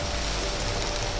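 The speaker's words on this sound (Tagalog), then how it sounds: "May ulan pa." Rain falls steadily outdoors in a wooded area, a dense, even hiss with no breaks and no voices, at a moderate level.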